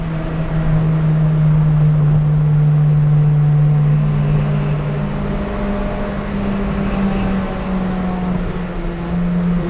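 A track-focused Acura RSX Type S engine drones loudly from inside the cabin while driving, its pitch holding steady and then shifting with a gear change, with no talking.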